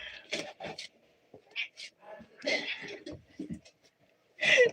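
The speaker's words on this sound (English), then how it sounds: "I hope you like cat meows because I got tons of them" A Siamese cat meows repeatedly in short, loud, insistent cries, close by, with brief pauses and some quieter sounds in between.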